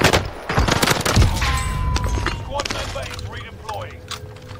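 Gunfire in Call of Duty Warzone on the Fortune's Keep map, bursts of shots cracking loudly near the start, then fading to scattered distant pops, with someone talking over it.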